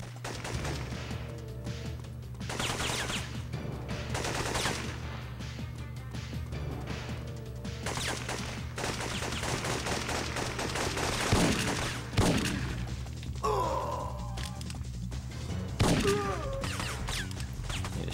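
Shotgun blasts and other gunfire in the PS1 game Syphon Filter sound repeatedly over a steady backdrop of game music, with heavy booms at irregular intervals and a few sharp impacts near the end.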